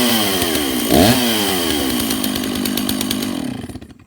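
A Stihl chainsaw runs close by at a loud, buzzy steady idle with a brief rev near the start before the engine fades out at the end, with no talking over it.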